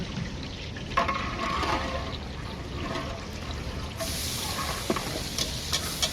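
Onions fry in a pan over a wood fire while veg pulao is cooked with whole spices, giving a steady, close sizzle with faint crackles and clinks throughout.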